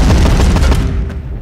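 A loud explosion in the police video game Contraband Police, a sustained roaring burst with crackling gunfire-like blasts that decays into a fading rumble within about a second and a half.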